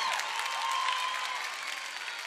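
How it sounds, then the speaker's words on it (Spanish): An audience at a drag gala in Corralejo claps in a dense, continuous burst of applause with light cheering, steady throughout. "Más fuerte el aplauso."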